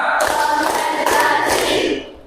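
In a class, a group's hands clap in a counted clapping routine, a short series of crisp, fairly loud claps spaced across a couple of seconds before fading.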